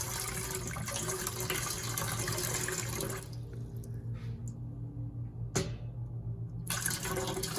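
Water with floating Orbeez and other material is poured off from a container, a steady rushing pour that stops abruptly, leaving a quieter trickle and brief splash before the flow resumes.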